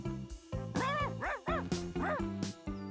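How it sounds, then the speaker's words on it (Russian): Cartoon dogs in a park yapping and barking in a quick run of bright, repeated yips with whimpering tones, close and loud over a steady musical background, no talk. "Так в этом парке... Еще и собаки есть."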